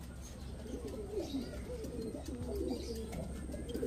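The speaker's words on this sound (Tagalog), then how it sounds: "10:38 mga tropang kalapatids dumating." Racing pigeons arriving at a loft in San Quintin, Pangasinan after a training flight, cooing steadily at close range over a constant low background hum.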